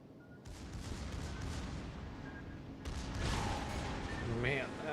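Torpedo hits strike a ship in the naval battle game World of Warships Legends, heavy booming explosions and rumbling blasts in a loud sustained barrage, with a burst of louder impacts near the end.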